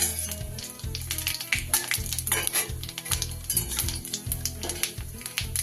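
Cumin seeds frying in hot oil with whole spices and a bay leaf, a loud close sizzle with repeated metal spoon scrapes and clinks against the pan in an uneven stirring rhythm.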